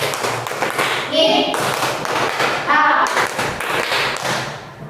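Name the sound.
classroom students clapping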